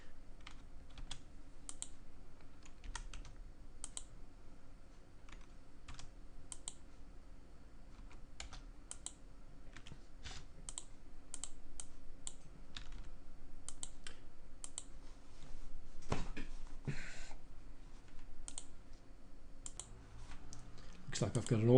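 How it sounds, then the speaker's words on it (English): Data is typed on a computer keyboard in quick, irregular bursts of light clicks, faint and close over steady room hum, with a louder clatter near the end. "So I'll type in the data,"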